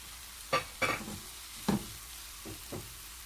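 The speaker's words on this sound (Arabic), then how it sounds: "هنشوح برده ثوم كده مع البصله" Garlic and onion sautéing in oil in a pan, a low sizzle broken by several bursts of stirring and scraping, close and with no speech.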